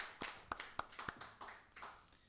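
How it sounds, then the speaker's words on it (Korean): A Korean church congregation gives a short round of clapping during a Sunday worship service, a handful of sparse, fairly quiet claps landing unevenly over a couple of seconds. "하나님께 영광의 박수 돌려드리겠습니다."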